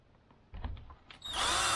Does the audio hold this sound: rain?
no